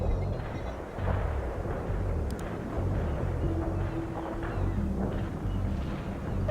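Artillery fire in the real-time strategy game World in Conflict: a continuous heavy rumble of distant shelling and battlefield noise, low and steady, with a faint tone underneath and no voices.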